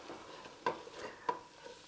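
Flour browning in a pan for gravy is scraped across the bottom with a utensil, giving two sharp scraping strokes over a soft, low sizzle, close and fairly quiet.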